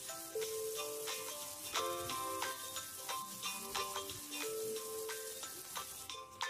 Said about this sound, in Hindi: इसको डालेंगे और इसको भूनेंगे प्याज के साथ।